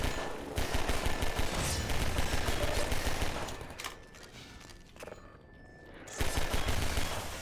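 Gunfire in the video game Half-Life 2: dense, sustained bursts of shots with a game soundtrack underneath, dropping to a lull in the middle before loud firing resumes near the end.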